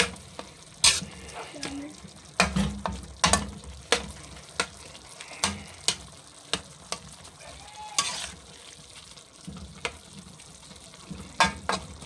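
Ground pork frying in a pan and being stirred, with a steady sizzle under repeated sharp scraping and clanking strokes of the spatula at an uneven rhythm, close and fairly loud.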